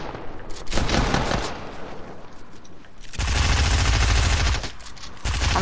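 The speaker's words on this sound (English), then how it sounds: "Should I disrespect him and kill him with a pistol?" Rapid gunfire bursts from a first-person shooter game, loud and close, with dense volleys in the opening seconds and a heavier sustained barrage from about three seconds on, briefly pausing before resuming.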